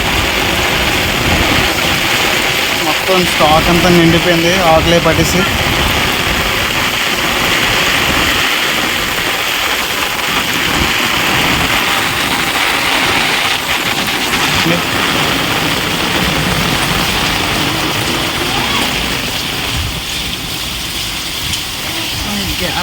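Heavy night rain pours down in a dense, unbroken hiss while water floods into a house, with a person talking over the downpour.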